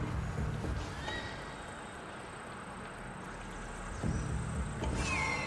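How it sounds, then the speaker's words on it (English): A horse in the Assassin's Creed Odyssey video game neighs and its hooves clop over a steady, dense wash of in-game ambience that swells slightly near the end. "Get off the horse now."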